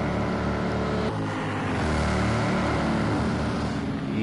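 Race cars in Project Cars 2 roar toward the second Mulsanne chicane at Le Mans, a loud continuous engine drone with a shift in pitch as the cars pass by, no voices.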